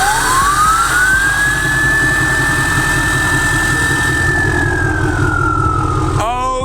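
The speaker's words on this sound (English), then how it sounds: "that is DDG 41 High Country Duramax" Duramax diesel engine of a Chevrolet High Country pickup runs close and loud: a steady rumbling idle with a long whistle that rises, holds, then falls away near the end.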